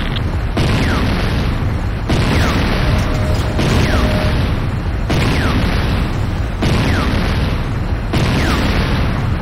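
Heavy explosions from the destruction of a Tiberium Refinery in the video game Command & Conquer: Renegade boom out in a steady series of loud, broad blasts about every second and a half, with no quiet between them.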